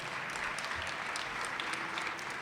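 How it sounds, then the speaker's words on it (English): An audience at an Arts Advocacy Day gathering claps in dense, sustained applause, a steady wash of many hands throughout with no speech over it. "I want to start off by all of you giving yourselves a round of applause"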